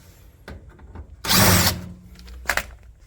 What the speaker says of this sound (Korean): 이 고정 나사를 풀도록 합니다